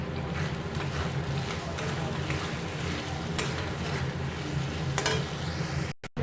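Spice masala with ground coriander being stir-fried in oil for a Bengali egg curry, a loud, dense sizzle with scraping spatula strokes throughout, ending abruptly.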